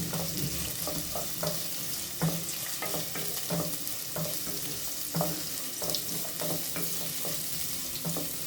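Onions and green chillies with chilli powder fry in a pan for a chicken curry, a steady sizzle with repeated scraping stir strokes, close and continuous, no talking.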